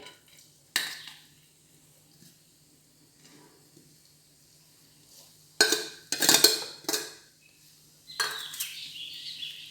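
Grated sweet potato goes into a pan of hot ghee for payasam and gets stirred, a few sharp clattering scrapes and knocks in short bursts amid near silence.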